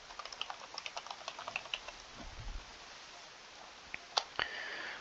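Keystrokes on a computer keyboard come as a quick, soft run of light tapping, then a few isolated, slightly louder clicks after a pause, close up against a quiet background with no voices.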